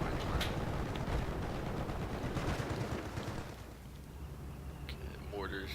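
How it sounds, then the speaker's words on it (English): A .50 cal machine gun in a WWII-era video game fires into a town, giving dense, sustained bursts of gunfire that thin out midway. A faint voice is briefly audible near the end. "50 cal doing some real work shooting into town here"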